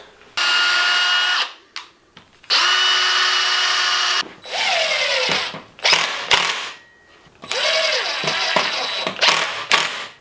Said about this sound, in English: let's drill some pilots